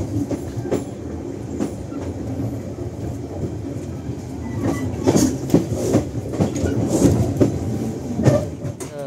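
An economy-class Airlangga passenger train from Jakarta's Pasar Senen station to Tegal rolls along the rails with rhythmic clickety-clack from the wheels and occasional squeals, heard from inside or nearby, steady and moderately loud.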